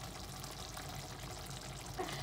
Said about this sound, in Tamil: ஸோ இப்போ உங்களுக்கு கிரேவிக்கு தேவையான அளவுக்கு தண்ணி ஊற்றிக்கோங்க.